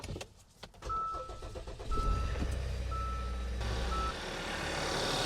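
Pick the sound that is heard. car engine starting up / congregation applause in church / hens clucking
car engine starting up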